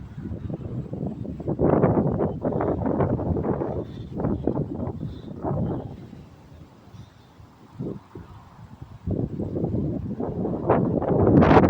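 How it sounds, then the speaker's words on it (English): Strong wind gusting through huge trees in Liberty Park, Jackson, Tennessee: a loud rushing roar that surges and fades in waves, dropping to a lull midway before rising again, with no talk. "Just watching the wind blow these huge trees."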